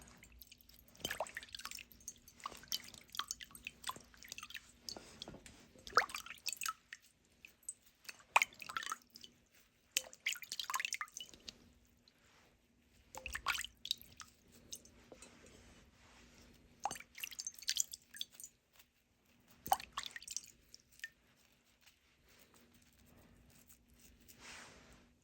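Water dripping and squishing as the hair of a 1960s Mattel Midge doll is wetted from a bowl, irregular soft wet bursts and drips spread across quiet pauses, close and faint.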